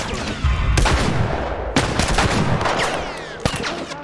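Close, loud gunshots ring out in The Last of Us Remastered, several sharp blasts spaced irregularly, each trailed by echoing combat noise.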